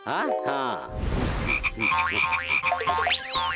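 Cartoon frogs croak repeatedly in quick, bouncy bursts, mixed with whooshing effects and rising tonal sound effects, loud and close with no speech.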